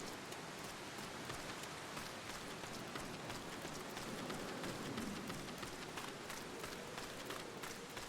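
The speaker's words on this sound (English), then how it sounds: "Oh, now this place is raining too?" Rain falls in the video game Final Fantasy XIV, a steady, even hiss of downpour that continues unbroken throughout at moderate level, with no talk.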